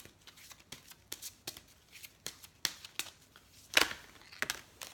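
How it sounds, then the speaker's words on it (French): Angel oracle cards of love are shuffled and drawn in a quiet room, giving a series of soft, quick riffling flicks and snaps with irregular spacing and one louder burst near the end, close and alone with no talk. "On va tirer une carte des anges de l'amour"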